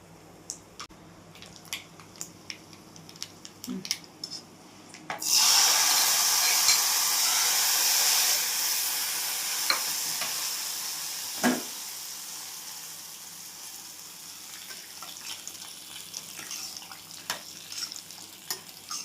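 Asafoetida and curry leaves drop into hot oil with a sudden loud sizzle that gradually settles, over scattered clinks and scraping from stirring.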